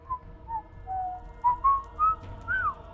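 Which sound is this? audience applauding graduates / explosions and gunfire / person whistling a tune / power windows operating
person whistling a tune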